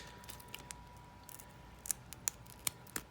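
Scissors snip through glitter vinyl transfer tape in a few quick, sharp cuts spaced over a quiet moment, close and crisp against a faint background.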